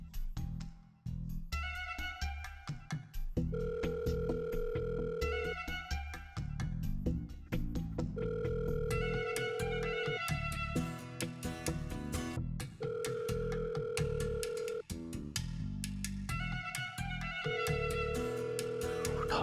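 A repeating electronic telephone ringback tone sounds in regular bursts with short gaps, steady and fairly loud, with no voices.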